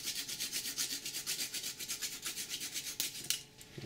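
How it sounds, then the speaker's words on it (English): Fresh ginger grated on a microplane over mushrooms and onions, a quick steady run of close, dry rasping strokes repeating about every few tenths of a second, ending with a couple of sharper scrapes; no talking. "Then I'm going to take my ginger right over the top of my mushrooms and onions. With a microplane grater."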